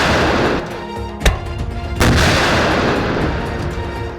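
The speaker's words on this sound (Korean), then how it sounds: "지상 사격 시험 야간 사격 시험." A 30mm wheeled anti-aircraft gun fires during a ground firing test, with two loud, sharp blasts about a second apart over a steady, heavy background rumble.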